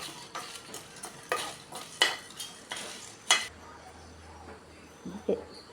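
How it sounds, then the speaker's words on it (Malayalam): Dry pepper, dried lime and coriander powder roasting in a pan, a close series of scraping stirs and spatula knocks against metal about every half second, with faint sizzling underneath and no talk. "ഇത്രയും കൂടെ നന്നായിട്ട് വറുത്ത് പൊടിച്ചെടുക്കണം."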